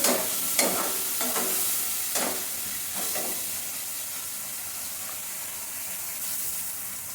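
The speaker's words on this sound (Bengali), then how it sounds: "দুধটাকে মিডিয়ামে করে মশলাটাকে কষিয়ে নেব" Spice masala with milk being stir-fried in a pan, with a soft steady sizzle broken by several distinct scraping stirs near the start, then quieter bubbling.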